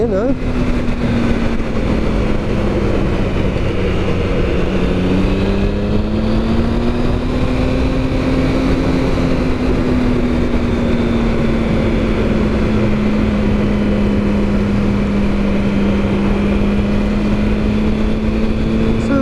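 A Triumph ST Sprint 1050 motorcycle engine pulls hard coming out of a bend, its steady droning note gliding slowly up and down as the throttle opens, loud and continuous with wind noise over it for the whole stretch.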